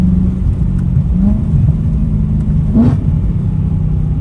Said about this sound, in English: The downshift, man, this downshift is like next level.